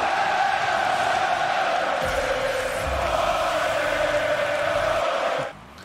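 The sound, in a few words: crowd cheering after a goal in a video game match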